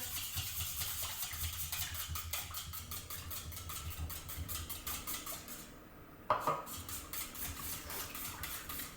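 A spoon works through carrot muffin batter mixed with applesauce in a bowl, giving rhythmic close clinks and scrapes against the bowl beneath a low steady hum, with one sharper knock near the end.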